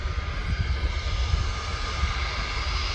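An airliner at Manchester Airport starts rolling for takeoff, its engine noise a steady, loud, broadband rumble that holds evenly throughout with no voices.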